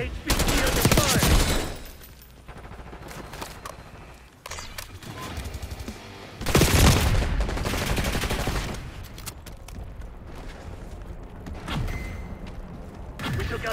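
Bursts of automatic gunfire and explosions in Call of Duty: Black Ops 6 multiplayer, dense and loud in several waves with quieter gaps, mixed with in-game radio chatter.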